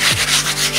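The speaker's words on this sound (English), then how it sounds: "we must give it a nice light sanding just to get all the excess mold off." Light sanding across a ceiling to take off mold, heard as a steady, close scratchy rubbing with soft rhythmic swells and no talk.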